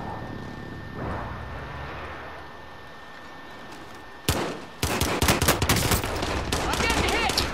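Call of Duty: Modern Warfare firefight, with quiet ambient rumble and a faint voice giving way to a sudden loud shot, then a dense rapid string of close automatic gunfire.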